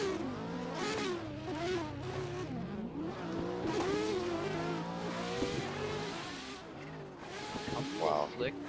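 Corvette race cars battling in a sim racing game roar and rev continuously with shifting engine pitch and brief tire squeal, under steady excited commentary.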